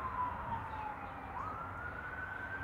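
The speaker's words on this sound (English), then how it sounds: "It's like a little siren action coming." An emergency vehicle siren wails at a distance, a faint single tone that slowly dips and then climbs again over a steady low outdoor rumble.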